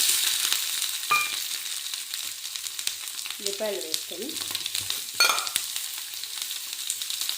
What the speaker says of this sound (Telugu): నూనె వేడైన తర్వాత ఉల్లిపాయలు వేసుకొని